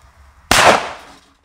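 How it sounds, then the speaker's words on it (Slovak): A small firecracker of about two grams, an old bomb-type banger, bursts sharply after a brief quiet while taped to a washing machine's display panel, with a loud crack and a rattling decay fading over about half a second. "Pokračujeme so starou petardou bomb, takže okolo 2 gramov a nalepili sme si ju takto na displej."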